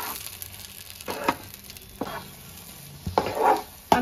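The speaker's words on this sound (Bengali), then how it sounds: "এবার আমি পেস্টটা ঢেলে দিচ্ছি কড়াইতে।" Spice paste of ground cumin, salt and sugar sizzling in a hot kadai, with spoon-scrapes and stirring bursts breaking through a low steady fry, close and moderately loud.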